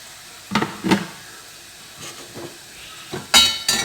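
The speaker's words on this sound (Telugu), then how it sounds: "పసుపు యాడ్ చేసుకొని దాన్ని కూడా కొంచెం బాగా ఫ్రై చేసుకుంటున్నాను." Turmeric frying in oil in a pan for an egg fry, a soft sizzle broken by a few scraping stirs and sharper clatters toward the end.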